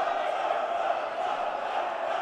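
A minifootball arena crowd cheering and shouting after a hard-fought win over Magafana Athens, with a steady, dense roar of many voices throughout.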